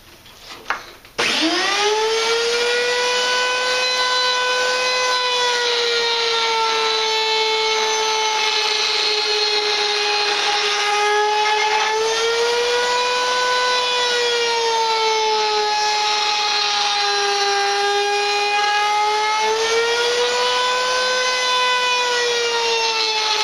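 A belt sander shapes a piece of wood, a loud, steady, close motor whine with a sustained pitch that wavers slightly as the workpiece is pressed and rotated, running continuously after a brief start.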